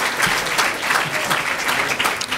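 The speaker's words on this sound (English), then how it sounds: "Round of applause. Round of applause. Come on." Audience at a post-election panel in Chicago breaks into steady applause, a dense wash of clapping that fills the room without pause, with a few stray voices mixed in underneath.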